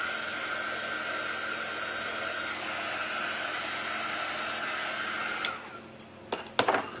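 Hair dryer blowing on a handmade spring highland cow craft piece, a steady loud whooshing hum that cuts off near the end, followed by a few faint handling knocks.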